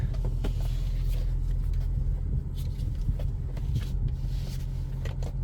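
A 1996 Infiniti I30 sedan being driven, a steady low engine and road rumble heard from inside the car with faint intermittent clicks and taps over it.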